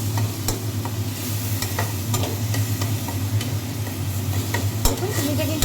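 Sugar melting in a pan over a low flame, stirred with steady scraping and soft sizzling and occasional sharp clicks of the utensil against the pan, close and continuous.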